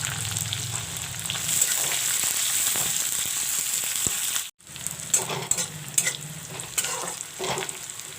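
Dry red chillies and sliced onions frying in hot oil, a loud continuous sizzle with stirring scrapes, a brief drop out midway, then crackling resumes with spoon knocks.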